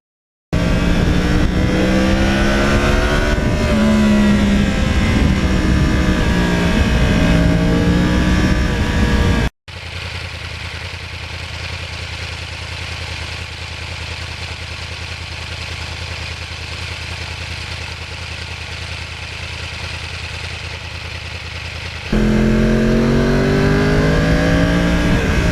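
A 2020 Yamaha R1 sport motorcycle engine hums and shifts pitch while riding past a lake in Denmark, loud and continuous, with a rougher, wind-heavy stretch in the middle before the engine tone returns.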